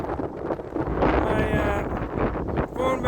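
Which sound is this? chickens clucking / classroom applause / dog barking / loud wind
loud wind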